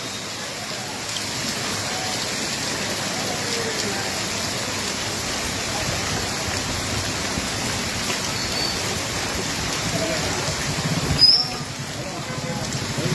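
Heavy monsoon rain pours steadily in a Gujarati town, a dense, even hiss of drops hitting surfaces close by, with a brief sharper knock near the end.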